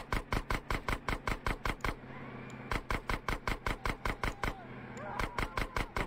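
Rapid automatic gunfire in the video game GTA San Andreas cracks out in fast, evenly spaced bursts, loud and close, pausing briefly twice before resuming, with faint game engine sounds between shots.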